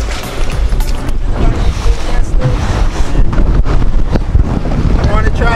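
A boat motors over water with strong wind buffeting the microphone and waves splashing, a loud continuous roar throughout.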